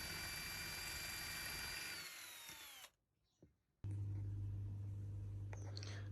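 A power drill whines steadily while boring into reef aquascape rock for a 180-gallon reef tank, slowing as it winds down, then after a brief quiet pause a lower-pitched drilling hum starts again, close and unaccompanied by speech.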